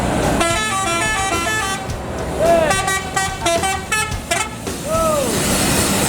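A Transport Express Jaya bus passes close by on the road, its engine rumbling under repeated melodic multi-tone horn blasts that rise and bend in pitch, with voices in the background.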